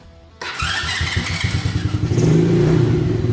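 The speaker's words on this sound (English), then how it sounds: "let's go ahead and fire her up and see if that new spark plug works" A Chinese ATV engine with a freshly changed spark plug catches abruptly and settles into a loud, close, rapid chugging idle that climbs slightly in revs.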